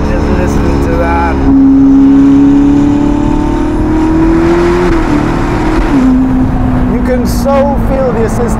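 A Novitec-tuned Ferrari SF90 Spider, a 1109 hp hybrid supercar, accelerates hard, its engine note climbing in a loud sustained drone that steps up through gears, with someone talking over it.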